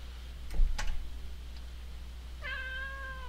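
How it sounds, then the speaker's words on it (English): A cat meows once in the horror video game Alicemare: a clear, drawn-out tonal mew near the end, preceded by a couple of soft clicks and ticks over a quiet background hum. "And cat. Why is there a cat?"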